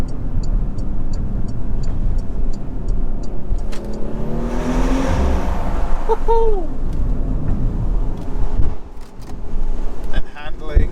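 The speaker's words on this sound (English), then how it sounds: "bit of turbo noise, bit of V6 noise. Does sound good." Porsche Macan S petrol V6 with its turbo pulls hard from inside the cabin, a steady engine drone rising in pitch with a brief whoosh, while a person cheers loudly partway through.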